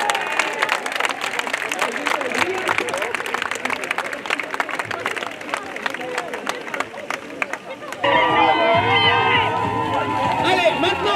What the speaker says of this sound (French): Je vais vous applaudir déjà